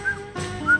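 A person at a racecourse whistles softly to calm a racehorse, a few short, thin high whistle notes close by, with quiet background noise between them.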